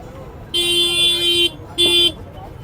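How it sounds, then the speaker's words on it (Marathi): Two sustained car horn blasts, a long one and a shorter one, sound over a low rumble of traffic on a crowded market street in Sindhudurg during festival shopping. "ट्रॅफिक बघा"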